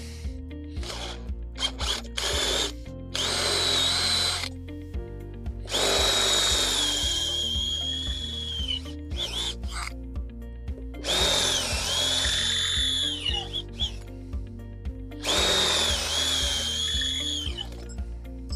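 A power drill with an 8.5 mm bit bores through steel after a pilot hole, working near its limit. Loud, close whining bursts start and stop repeatedly, with a steady low hum underneath and no talk.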